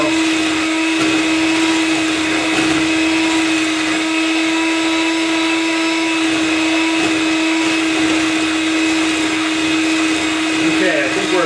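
An electric mixer whirs continuously while blending mousse, a loud, steady motor whine held close throughout with faint shifts in pitch as it churns.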